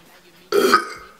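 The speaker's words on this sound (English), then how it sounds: "Come on, Burp." A single short, loud burp from a girl bursts out after a quiet moment, followed by the start of another sound at the very end.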